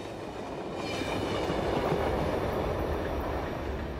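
A train rolling along the Pennsylvania Railroad tracks at Menlo Park, New Jersey, a loud continuous rumble that swells and holds steady as it passes close by.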